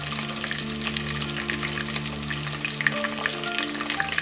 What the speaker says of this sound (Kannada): ಸೊ ನೆಕ್ಸ್ಟು ಆನಿಯನ್ನ ಹಾಕ್ಕೊತಾ ಇದ್ದೀನಿ.